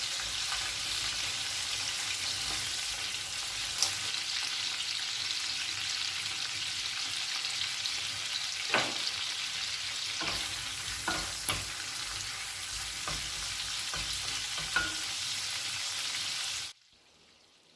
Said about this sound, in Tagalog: Pisa-pisain ng kaunti ang mga ulo ng hipon